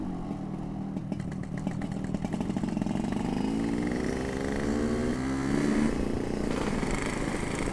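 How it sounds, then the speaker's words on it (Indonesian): A motorcycle with a loud aftermarket exhaust rumbles steadily nearby, its engine note rising and falling slightly as it rides along a road by the sea, with no talk over it. "Kita santai-santai dulu cuy karena suara knalpot berisik ya."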